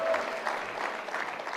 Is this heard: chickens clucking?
no